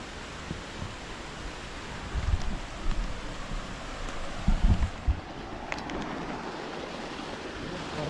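A steady, rushing roar of water pours down at Step Waterfall near Goregaon in Raigad, a dense unbroken wash of noise with a few louder gusty thumps from wind on the microphone, and no voices.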